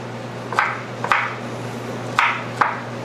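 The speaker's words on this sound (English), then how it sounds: "we're just chopping that up" A knife chops through zucchini on a board in four separate sharp strikes, spaced unevenly over a low steady hum.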